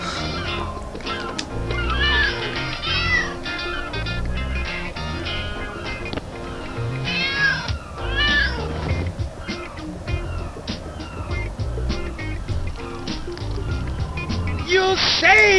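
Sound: cat meowing in video game Lego City Undercover

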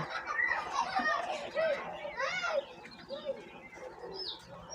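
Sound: quail birds calling

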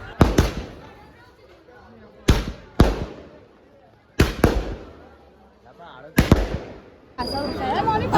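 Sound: firecrackers bursting at a wedding celebration

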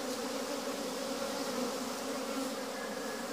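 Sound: honey bees buzzing in an opened hive

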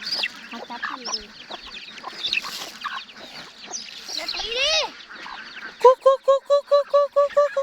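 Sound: chickens clucking on a farm

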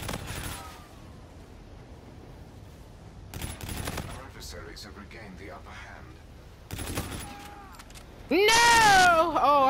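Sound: gunfire in the video game Call of Duty: Infinite Warfare

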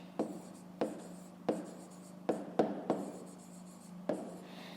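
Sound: pen writing on paper

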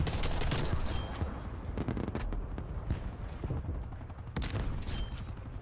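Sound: gunfire in Black Ops Cold War video game

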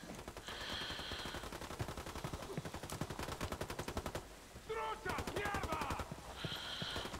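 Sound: gunfire in the video game Ghost Recon Wildlands

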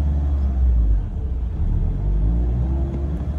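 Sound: stick shift car pulling off as clutch is released

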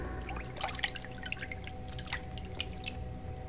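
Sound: water dripping in Prince of Persia: The Sands of Time video game

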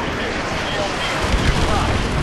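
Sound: airstrike explosion in the video game Modern Warfare Remastered

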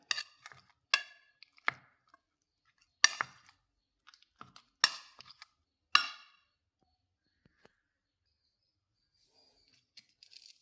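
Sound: mashing bananas with a vessel

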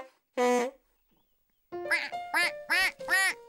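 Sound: duck quacking

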